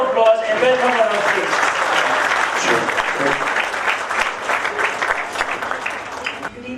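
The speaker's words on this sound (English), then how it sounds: "Let's give her a massive round of applause" A conference audience claps loudly and steadily for a speaker at an event on women and driverless cars, with a voice talking over the dense applause before it thins out.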